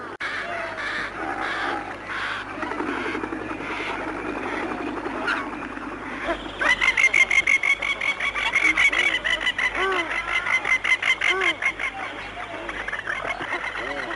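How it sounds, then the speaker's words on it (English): Mountain ducks honk loudly and repeatedly in quick rhythmic bursts, joined by a clamor of other bird calls, close and busy. "The loud honking you can hear are the calls of mountain duck."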